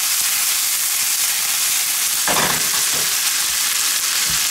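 Ingredients for tartiflette sauté in a pan with a loud, steady hiss of sizzling, broken by a brief scraping stir partway through.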